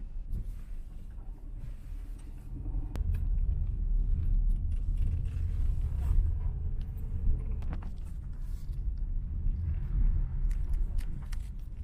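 A car rolling along a rural dirt village road off the highway toward Palash Dungri in Purulia, giving a steady low engine and tyre rumble with occasional rattles and bumps, no talk.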